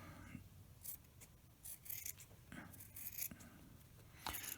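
Scissors snip and trim the uneven fabric edges of a sewn leopard-print medical mask, giving quiet, irregular cutting and rubbing sounds close by with no one speaking.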